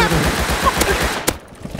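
Rapid bursts of gunfire from the survival game Rust crackle in quick succession, loud and close, with a sharp final shot before fading, while a voice talks over the shooting.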